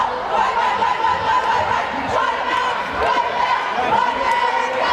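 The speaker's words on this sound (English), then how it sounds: "We'll see what the West Side crowd has to say" A West Side basketball crowd in a gym gives off a dense, steady murmur of voices, scattered chuckles and brief shouts, all at moderate volume.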